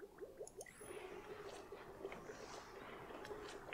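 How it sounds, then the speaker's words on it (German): Water flows in the Oxygen Not Included game as a steady run of soft squishy drips and liquid gurgles, moderately quiet and continuous, with no talk over it. "Das Wasser ist ziemlich viel, was da läuft"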